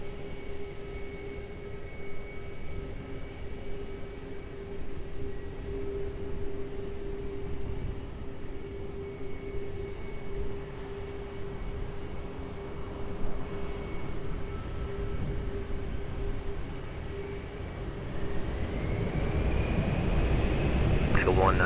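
A jet airliner takes off from runway 20 at Lisbon Airport, a steady distant engine roar with a sustained drone that builds louder near the end as the aircraft accelerates, heard alongside radio chatter.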